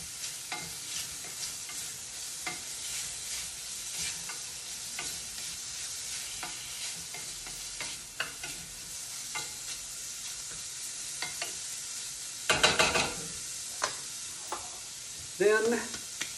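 Spinach-stuffed pork sizzling and frying in a pan with wilted greens, a steady crackle under occasional stirring clatters and a couple of louder scrapes near the end, with no voices.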